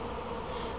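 A faint, even drone of honeybees from village hives continues throughout, ending with a brief soft knock.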